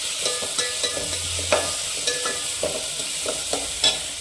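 A spatula stirs frying food around a pan in a home kitchen, making repeated short scrapes and clinks over a soft steady sizzle. There is no speech.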